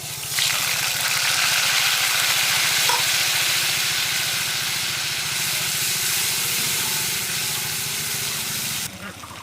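A ground paste of cumin, onion and chili hits hot oil in a pan and sizzles loudly and steadily, a dense frying hiss that holds until it drops off abruptly near the end.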